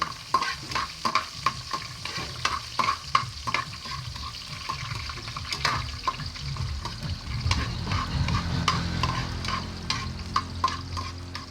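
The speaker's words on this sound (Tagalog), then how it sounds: "Diyan sa mainit na mantika, ilalagay na natin ang ating luya." Ginger sizzles in hot oil in a pan while a utensil stirs it, with scraping clatters over a steady frying hiss that grows thicker toward the end.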